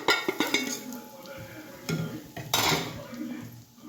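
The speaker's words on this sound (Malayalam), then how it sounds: "നമുക്കിനി മൂത്ത് വരുന്ന വരെ ഒന്ന് നല്ലതായിട്ട് ഇളക്കി കൊടുക്കാം" A spoon scrapes and clinks against a pan while fish curry masala is stirred and fried, with a low sizzle under several short metallic knocks and scrapes.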